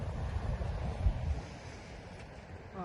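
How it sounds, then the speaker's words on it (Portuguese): Ocean waves wash onto a beach under gusty wind buffeting the microphone, with a loud low rumble at first that eases into a steadier, softer surf wash. "Chegamos no mar, chegamos na praia"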